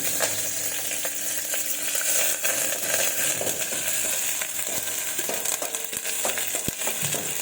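Curry leaves and raw ginger-garlic paste sizzle and crackle steadily in hot oil for a dhaba-style home meal, a dense continuous frying hiss with occasional sharper pops and stirring clatter, close and without talk.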